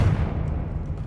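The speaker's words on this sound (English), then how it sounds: "Confringo!" A Confringo spell blast in the video game Hogwarts Legacy, cast inside a witch's tomb, lands as a short, heavy, low rumbling boom that fills the whole moment with no talk.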